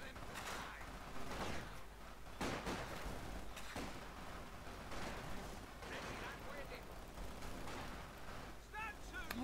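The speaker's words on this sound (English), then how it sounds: "Very quick submachine guns there." Fast, continuous submachine gun fire in a video game forms a dense clatter of rapid shots with sharper cracks throughout, and a voice speaks over the din.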